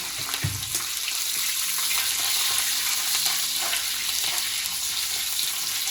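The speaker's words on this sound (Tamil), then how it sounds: "2 பச்சை மிளகா, அப்புறம் கருவேப்பிலை கொஞ்சம், இதெல்லாம் போட்டுட்டு கொஞ்சம் நல்லா வணக்கி விடணும்" Green chillies and curry leaves sauté in hot oil in a pan for crab gravy, giving a steady close sizzle and frying hiss with faint stirring, no voices.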